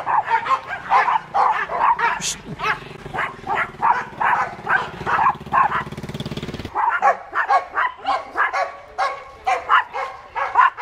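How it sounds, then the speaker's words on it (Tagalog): Several dogs, including a Yorkie and a Lab and Chow mix, barking and yipping nearly nonstop, loud and close, with a brief motor drone in the middle. "Everyone else tumatahol."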